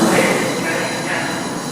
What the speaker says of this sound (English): and if we listen to the lift motor